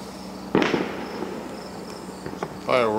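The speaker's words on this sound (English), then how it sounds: "Fireworks." Fireworks exploding outdoors at night: one sharp, loud boom at the start that trails off into a crackling decay, followed by a brief voice near the end.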